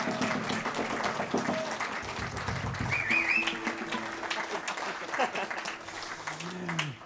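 Audience applause at a summer gypsy-jazz concert, a dense steady clapping wash that runs the whole time, with some voices and a brief whistle-like tone mixed in.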